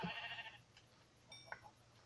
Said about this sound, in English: I just murdered a sheep.